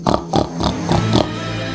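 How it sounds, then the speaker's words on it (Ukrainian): A pig grunts in a quick series of five or six short, nasal oinks in a steady rhythm, loud and close, in a story about a pig trudging through snow. "а назустріч їм свиня снігом бреде, рохкає"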